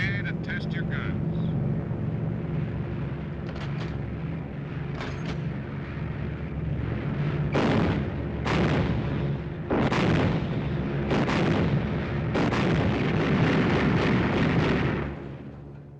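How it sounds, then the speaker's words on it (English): Bomber machine guns test-fire in bursts of heavy, booming reports over a steady droning aircraft engine, the blasts growing denser and louder toward the end. "Okay to test your guns."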